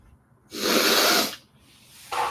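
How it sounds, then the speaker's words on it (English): A man snorts and sniffles hard through his nose, a loud, close breathy burst lasting under a second, followed by quieter breathing and the start of another sniff. "Those aren't sniffles from tears."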